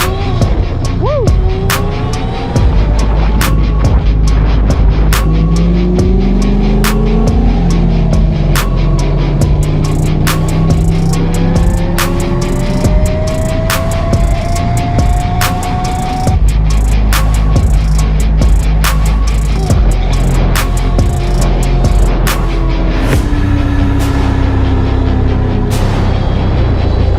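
A modified Razor bike fitted with a drop-in motor and geared 54-tooth rear, 11-tooth front runs steadily on a road, its motor whine rising and falling with throttle over constant wind rumble, with sharp clicks and occasional speech.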